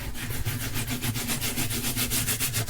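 Fabric is scrubbed hard as a stain is rubbed into the sleeve of a signed Liverpool football shirt, giving close, steady back-and-forth rubbing strokes with a fast, even rhythm and no speech.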